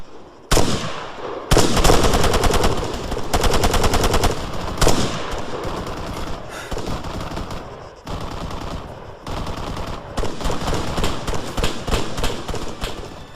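Machine gun fire in the military shooter game Arma 3, loud rapid bursts of automatic gunfire repeating with short pauses, sharp and close, continuing throughout with no talk.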